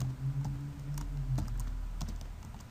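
Typing on a computer keyboard in a Notepad window: a short burst of quick, close keystrokes, some louder taps standing out, over a low steady hum.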